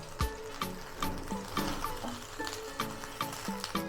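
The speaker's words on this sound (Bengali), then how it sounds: "এইভাবে একটু ভেজে নিতে হবে" A cabbage leaf being briefly fried in a pan for paturi, a soft continuous sizzle with light crackling and faint clinks, fairly quiet throughout.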